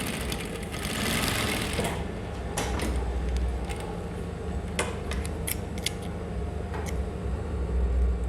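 Sewing machine stitching a bustier along a curved seam, a steady close mechanical whirr running almost the whole time, broken by short clicks and snips of handling the fabric.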